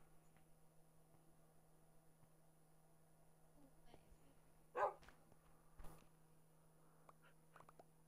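A dog in a block-building video game lets out a couple of short, sharp barks midway through, spaced about a second apart over a faint, steady game background.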